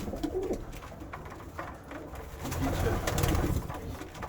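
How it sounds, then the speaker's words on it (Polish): Pigeons, some with painted underwings, cooing softly while they eat at a winter feeding spot on the rooftops, low repeated coos close by over a faint background hum. "to nawet dużo jest takich gołębi z pomalowanymi pod skrzydłami"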